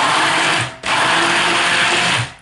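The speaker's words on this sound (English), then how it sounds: "bring that stick blender into the center, hold it down, and then pulse" A stick blender pulses through a rosemary soap mixture in two loud, close bursts of high-pitched whirring, with a brief drop between them and a fade at the end.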